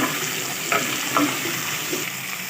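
Raw mango pieces stirred with a spoon in a hot pan for sweet and sour keri ki launji, a steady soft sizzle with a few light scraping clinks of the spoon against the pan.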